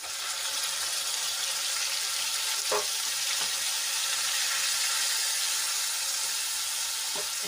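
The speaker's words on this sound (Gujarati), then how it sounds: "આદુ લસણ અને મરચાંની પેસ્ટ આપણી સરસ રીતે તેલમાં થોડીક સંતળાઈ ગઈ છે તો એમાં આપણે બે ખમણેલી ડુંગળી એડ કરી લઈશું" Grated onions fry in hot oil with ginger-garlic-chili paste, giving a steady, bright hissing sizzle that holds at an even level throughout, with a couple of faint clinks and no talking.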